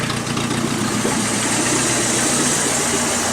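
A 1988 Dodge Dakota's 2.2 liter four-cylinder idles steadily through a straight pipe after its muffler came loose, giving a close, even, rumbling drone with no voices.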